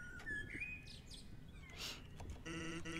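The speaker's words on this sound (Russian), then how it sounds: "Птички поют, цветочки благоухают." Birdsong from the video game Undertale: bright chirps and tweets repeat across the clip over a steady low background hum, fairly clear and close.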